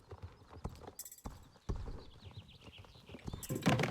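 Friesian horse hooves clip-clopping in the online game Star Stable Online, a steady rhythmic trot of close, moderately loud hoofbeats with a brief whinny-like burst near the end.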